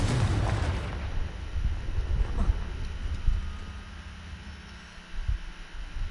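A Confringo fire spell goes off in a Harry Potter video game, a deep booming blast with rumbling low-end that swells, then rolls and fades over several seconds.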